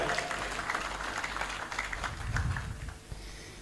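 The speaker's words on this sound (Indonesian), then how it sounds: "Tepuk tangan untuk Indonesia Raya." Fairly faint applause from an Indonesian audience right after the national anthem Indonesia Raya is sung, an even wash of clapping lasting a few seconds with a few low sounds mixed in.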